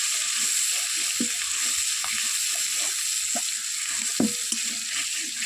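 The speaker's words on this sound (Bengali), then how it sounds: "এবার সবগুলো উপকরণকে খুব ভালো করে ভেজে নেব।" Radish and prawns frying together in a pan, a continuous hissing sizzle with intermittent stirring scrapes and clinks from a utensil, close and steady.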